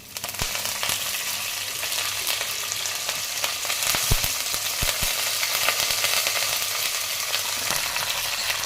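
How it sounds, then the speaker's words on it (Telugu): Tempering for a carrot fry with sago, pigeon pea lentils and curry leaves sizzles loudly and continuously in hot oil, close up, with scattered sharp pops and crackles over the steady hiss. "అయిపోయింది, తాలింపు వేగింది."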